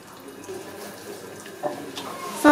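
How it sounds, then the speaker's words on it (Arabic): A small splash of water poured into a bowl of oil and spices while preparing Moroccan roast chicken, a faint trickle under low room noise ending in a brief louder pour. "غنزيد واحد شويه ديال الماء"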